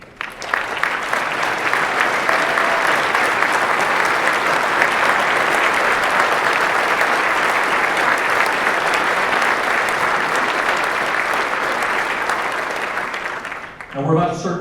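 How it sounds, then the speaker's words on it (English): Long, steady applause from a banquet audience honoring serving military members at a veterans dinner, a dense roar of clapping that holds evenly before tapering off, with a voice briefly speaking at the very end. "permit us to honor you with a small applause"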